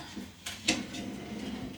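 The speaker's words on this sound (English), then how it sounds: "Then the other drawer" A bathroom vanity drawer is handled in an attic bathroom, making a couple of quick close-up knocks and a short sliding clatter within about two seconds.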